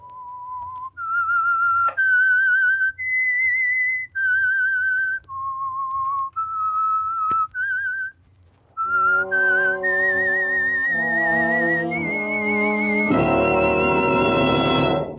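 A clear, loud whistled signal tune from an old-time radio mystery program, sustained notes rising and falling, ending with a swelling orchestral chord underneath the final phrases.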